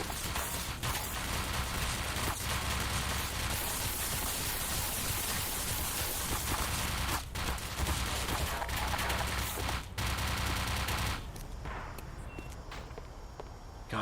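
HECU automatic turrets in Black Mesa fire in sustained, dense bursts of rapid gunfire, loud and near, running almost without pause before easing off near the end, with no voices.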